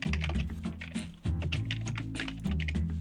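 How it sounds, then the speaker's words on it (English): Rapid typing on a computer keyboard, with dense irregular key clicks running continuously and fairly close, over a steady low hum and no talking. "We can hear you type, man."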